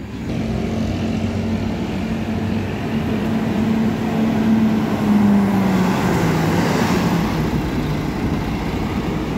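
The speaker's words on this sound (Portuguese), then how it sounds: "Aí o som do motor Volvo" A Volvo bus engine at a satellite bus terminal runs steadily with a low droning hum and a rising tonal whine in the middle, fairly close and continuous, with no one talking.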